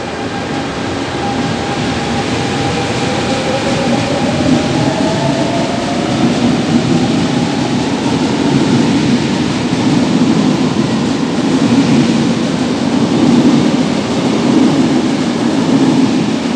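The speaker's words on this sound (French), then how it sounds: "Et on se termine avec ce départ de ce RER." A Paris RER commuter train on the original Boissy–Nation line pulls away in a loud, steady rumble. A rising motor whine and rolling wheel noise carry on throughout, close and continuous, with no voices.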